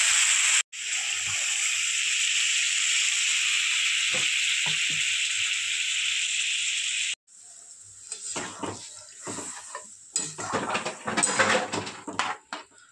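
Cauliflower and prawn masala in a hot pan gives a loud, steady sizzle for several seconds as water goes in. It then breaks off into quieter bubbling with intermittent scraping and stirring clatter.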